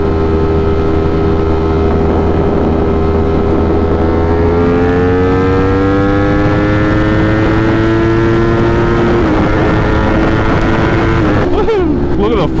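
Ducati motorcycle with a 208 hp engine riding steadily on a muggy morning commute, a loud close engine drone with strong harmonics under constant wind rush, the pitch rising gradually and then dropping sharply near the end as it shifts or revs.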